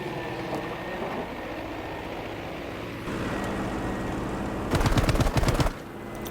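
Machine gun fire from a fighter plane in Battlefield 5 on Wake Island, heard as a short burst of rapid shots near the end over a continuous engine drone.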